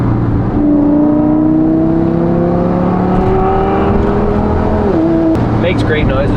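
A budget Lamborghini-style sedan's engine revs loud and close, one sustained rising drone that climbs, dips and then cuts off, with a few faint sounds trailing afterward.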